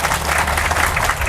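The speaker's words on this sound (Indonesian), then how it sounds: "Tepuk tangan buat kita semua." A hall audience applauds together at an Islamic religious lecture, a dense steady patter of many hands clapping close and loud throughout.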